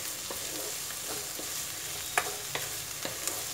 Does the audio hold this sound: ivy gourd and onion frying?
yes